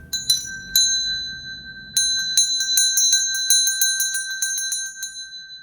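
A bright bell chimes a few times, then rings in a quick, steady run of repeated dings, clear and close with no voices.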